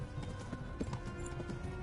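Horse hooves clip-clop at a steady gallop in the video game Kingdom Come Deliverance, rhythmic thuds laid over a dense bed of game ambience and music, fairly close.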